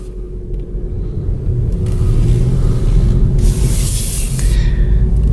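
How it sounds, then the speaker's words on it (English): A manual car with an electronic parking brake pulls away in first gear, its engine rumbling loudly up close and rising steadily as it accelerates, with a hissing wash of road or air noise joining partway through. "Put your foot on the brake, hit the button, lets the e-brake off, first gear."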